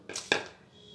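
Dry red chillies, salt and turmeric being pounded in a stone mortar for onion and sesame chutney: two sharp, close stone-on-stone thuds in quick succession, the second louder, with no talk.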